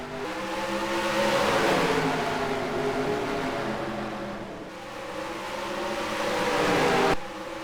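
Race cars roar off at a green flag start at Bristol in a racing video game, a dense pack of engines revving and climbing together, loud and sustained with layered engine tones, no talk over it.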